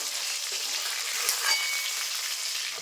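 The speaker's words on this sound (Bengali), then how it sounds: "দেখো এই মাছগুলো আমি লাগলাম করে ভেজে নিয়েছি এবার তুলে নেবো" Pieces of pangas fish fry in hot oil, giving off a soft, continuous hiss and sizzle that stays even and fairly quiet for a few seconds, with no voices.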